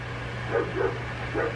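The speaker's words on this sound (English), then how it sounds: "The dog is very unhappy." Somewhere nearby, an unhappy dog gives a few short, muffled barks and yips over a steady low hum. The calls come at moderate volume, and nobody speaks.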